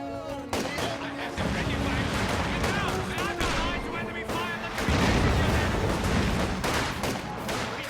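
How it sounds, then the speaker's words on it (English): Dense, continuous gunfire and booming fire in a video game battle, loud and sustained with overlapping shots, while voices talk over it. "Why are they shooting at us?"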